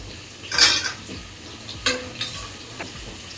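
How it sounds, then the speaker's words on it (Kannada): Pots, pans and utensils clinking in a home kitchen while egg biryani is cooked with coriander, mint and tomato, a few sharp clatters and scrapes over a quiet background with faint sizzling. "ಸೊ ಇವಾಗ ನಾನು ನಮ್ಮ ಮನೇಲಿ ಡಿನ್ನರ್ಗೆ ಎಗ್ ಬಿರಿಯಾನಿನ ಪ್ರಿಪೇರ್ ಮಾಡ್ತಾ ಇದ್ದೀನಿ"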